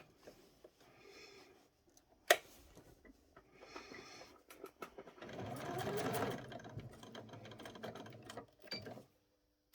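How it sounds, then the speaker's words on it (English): Domestic sewing machine taking a short run of stitches on a doll's school shirt: a quiet start with faint handling clicks, then a steady whirring, rattling burst of stitching up close, stopping abruptly. "I'll only take a few stitches"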